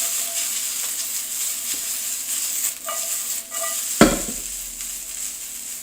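Carrots and green onion frying in a hot pan for Japanese short ribs, a steady sizzle with stirring scrapes and a sharp clatter and louder hiss partway through, no speech.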